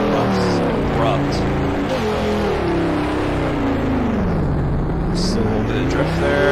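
A car in the Drift Crew video game drives and drifts, its engine revving up and down in loud sweeping waves, with short squeals of tyres, while a voice talks over it.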